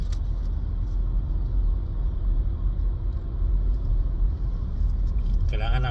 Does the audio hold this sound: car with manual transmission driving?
yes